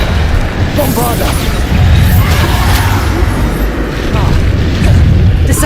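The Bombarda blasting spell from Hogwarts Legacy erupts in loud, heavy booms that overlap into a continuous rumbling barrage, close and powerful, with shouted voices mixed in.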